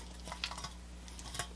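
Potatoes tossed with olive oil in a bowl, giving a few soft scraping and clattering knocks spread over a second and a half, quiet and close with no voices.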